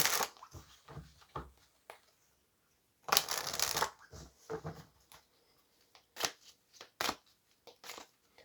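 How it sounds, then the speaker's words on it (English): Oracle cards are shuffled close up in a series of crisp riffling bursts of varying length, with quiet pauses between them. One longer bout of shuffling comes in the middle. "So let's get the final oracle card here for you."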